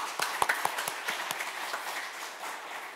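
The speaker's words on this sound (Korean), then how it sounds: "오늘 대회의 발표자, 토론자, 좌장 모든 분께 다시 한번 큰 박수를 쳐주시기 바랍니다" Attendees at an academic conference marking the National Academy of Sciences' 70th anniversary clap for presenters, panelists and moderators, a few sharp claps at first and then a softer, thinning patter from a modest audience.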